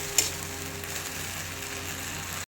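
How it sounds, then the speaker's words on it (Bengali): Onions and spices sautéing in hot oil for a rohu fish curry, a steady close sizzle and fry hiss running throughout, with a brief clink near the start. "পেঁয়াজ আমার লাল লাল করে ভাজা হয়ে গেছে, এবার দিয়ে দিলাম বাকি মশলাটা, দিয়ে ভালো করে কষাবো"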